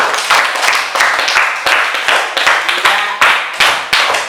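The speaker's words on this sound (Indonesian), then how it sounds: "Tepuk tangan untuk Sidan dulu." A classroom of students claps for a classmate in a quick, rhythmic patterned clap, sharp bursts repeating roughly every half second, close and loud, with a brief spoken word.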